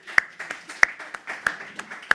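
Scattered hand claps from a small audience welcoming state parliament member Barbara Hackenschmidt at a local political talk event, sparse and uneven with a few sharper, louder claps standing out over a low background murmur.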